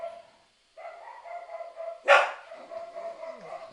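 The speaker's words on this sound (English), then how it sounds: "Sorry about the dogs, guys." Several dogs barking indoors in a home office, with a steady whining tone underneath and one loud sharp bark standing out midway, fairly close and not overlapped by speech.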